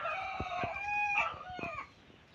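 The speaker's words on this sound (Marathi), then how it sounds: "कोंबडा आता इकडे आला" A free-range village rooster in rural Konkan lets out a single drawn-out crow, bright and fairly close, with faint clucks before it trails off.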